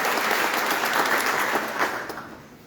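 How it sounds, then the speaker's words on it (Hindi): Crowd applause at a farmers' gathering at a temple, a full, steady clatter of many hands that thins and fades out toward the end. "जोरदार तालियों से हमारे"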